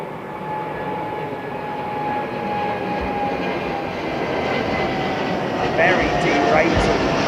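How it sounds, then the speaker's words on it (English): Royal Jordanian Boeing 787 Dreamliner taking off from Heathrow runway 09R with a steady, broad jet engine roar that builds slightly, a faint tonal whine riding on top, heard from a distance. "This is the Royal Jordanian Dreamliner."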